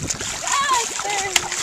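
Food tossed into shallow sea water while feeding stingrays in Bora Bora, Tahiti, lands with a few light splashes amid steady water noise, with people talking nearby throughout.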